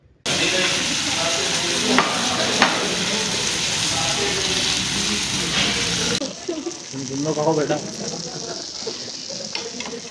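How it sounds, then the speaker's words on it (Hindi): Loud, continuous sizzling of beef steak on a hot plate in a restaurant, a crackling hiss that fades somewhat partway through, with faint voices in the background. "सिजलिंग की आवाज़ आ रही थी, बहुत ही ज़्यादा मज़ेदार।"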